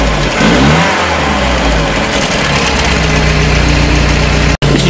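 The engine of a 1968 Commer 2500 van under restoration revs loudly up close with a steady, throaty roar and strong low vibration, then cuts off abruptly near the end. No one speaks.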